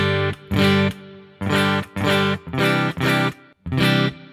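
Electric guitar played through Hotone Ampero II and Boss GT-1000 Core multi-effects units with reverb and an ambient, wet tone: about seven loud, sustained distorted chord strums in separate bursts, each ringing briefly before the next, no voices.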